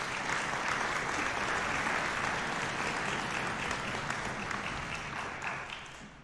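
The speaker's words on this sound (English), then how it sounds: "Please give them a round of applause" A concert hall audience at a Southern Illinois Symphony Orchestra performance gives a steady round of applause. The thick clapping holds for about six seconds, then thins and fades toward the end.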